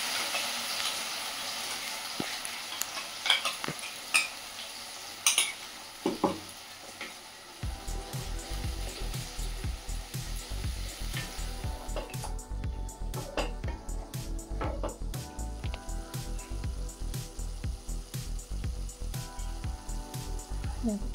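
A spice paste of cashew, garlic and onion hits a pan with potol and erupts into a loud, steady sizzle that continues to the end, preceded by a few clanks and scrapes of handling.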